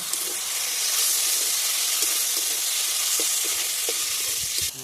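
Ginger-garlic paste and tomato fry with a splash of spice-paste water, making a loud, hissing, steamy sizzle that stays constant, with soft intermittent stirring scrapes beneath it.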